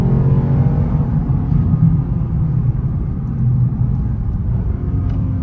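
A 2023 Lexus IS500 on a winding road, heard from inside the cabin as it accelerates and shifts gears, a loud, steady, deep engine rumble with slight dips in pitch between gears.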